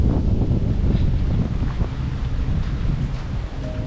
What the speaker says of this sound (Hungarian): Most van szél.